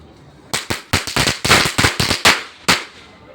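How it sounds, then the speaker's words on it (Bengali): A string of sharp firecracker bangs, roughly a dozen quick cracks bursting close and loud in an irregular rattling sequence over about two seconds, with no talking. "আমার ছেলেকে তো তোমাদের দাদাভাই বম কিনে দিয়েছিল, আর সেগুলো ফাটাতে পারে না"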